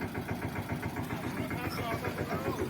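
A tractor engine idles with a steady, rhythmic low chugging that stays close and even throughout, with voices talking over it.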